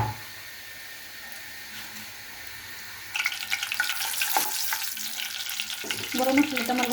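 Bay leaf and whole garam masala hit hot soybean oil, a faint hiss suddenly bursting into loud crackling sizzle that grows busier with stirring toward the end.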